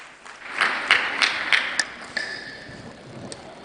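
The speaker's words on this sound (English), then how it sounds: "Clap hands for them." An audience gives a short burst of scattered hand clapping for the women at a cyber event in Lilongwe; a few loose claps are followed by a brief high tone, with no talking.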